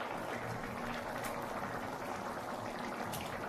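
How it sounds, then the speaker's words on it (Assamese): Papaya fish curry simmering in a pot, a steady soft bubbling hiss with faint pops, quiet and continuous without a break. "আৰু 2 মিনিটমান সময় মই এনেকৈ ইয়াতে উতলিবলৈ দিম।"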